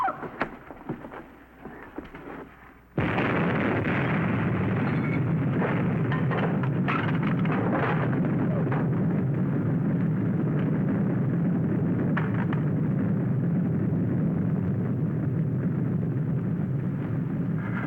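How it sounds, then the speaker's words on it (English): A bomb blast's shockwave arrives without warning about three seconds in, turning a quiet room into a loud, continuous roaring rumble that holds steady to the end. "That shockwave will hit any second."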